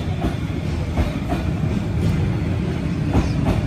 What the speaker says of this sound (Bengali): ভালোই বড় ট্রেন রে